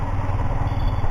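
A motorcycle engine runs loud and close during a ride on the road from Rishikesh to Delhi, a steady low rumble throughout.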